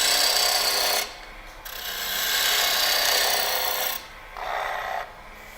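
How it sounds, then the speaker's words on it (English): Wood lathe scraping cut, left to right, while hollowing a wooden ornament: a steady, close, loud rasping hiss that drops away briefly twice as the tool lifts off the spinning workpiece. "I'm just actually doing a left to right cut, more of a scraping cut"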